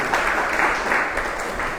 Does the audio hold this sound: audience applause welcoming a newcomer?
yes